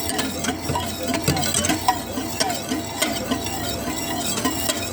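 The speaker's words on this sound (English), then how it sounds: "I'm still whisking it so that way it doesn't burn or scorch on the bottom" A whisk beats pastry cream in a pot on the stove, producing quick, rhythmic scraping taps against the metal, close and steady throughout.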